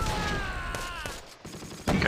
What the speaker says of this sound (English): That might be their mortar, I guess then.